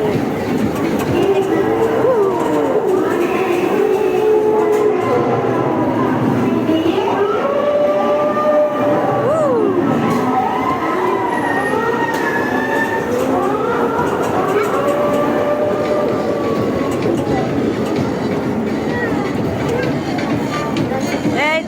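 A small amusement-park train rolls through a ghost-house ride with a continuous rumble of wheels and wavering squeals from the track, while voices call out and chatter over it.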